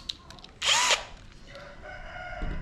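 A power drill drives a self-drilling screw into an iron frame for a homemade pool table, one short loud whir with a rising pitch before it stops, while a rooster crows faintly in the background.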